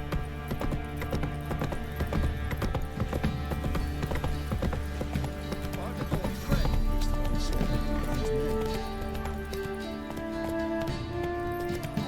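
Hooves of Roach, a horse in The Witcher 3 video game, clip-clop in a steady trotting rhythm, close and clear over a background music bed, with a brief whinny and a few spoken words.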